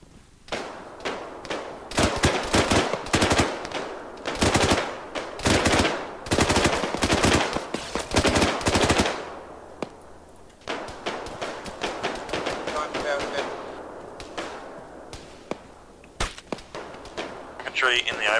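Loud gunfire from an Arma 3 firefight in a town: rapid bursts of automatic fire, densely packed through the first half, then sparser single shots and shorter bursts that sound farther off.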